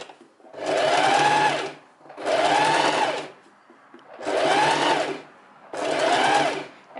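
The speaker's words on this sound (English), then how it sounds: "And now we do the front and back stitching again." A sewing machine stitches a seam on a linen dress in four steady bursts of rapid whirring and clatter. Each burst lasts about a second, with brief quiet gaps between them.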